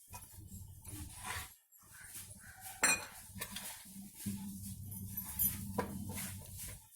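Chicken pieces are mixed by hand with chilli and spice powders in a bowl, with repeated wet squelches and clinks of the bowl over several seconds, and no talk.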